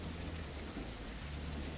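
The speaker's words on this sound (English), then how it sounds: "look at the raindrops in the puddle" Rain falling into puddles in the video game Tex Murphy: Killing Moon, a dense steady patter of drops with a low rumbling undertone, continuous and fairly close throughout the short stretch.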